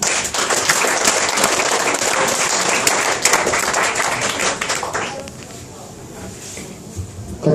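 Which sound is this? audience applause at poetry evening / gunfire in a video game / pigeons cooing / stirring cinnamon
audience applause at poetry evening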